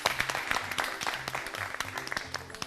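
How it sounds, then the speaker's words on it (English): Cooking contestants clap for themselves in a brief burst of scattered, uneven handclaps, fairly close and modest in volume, with a low hum underneath. "Clap for yourselves."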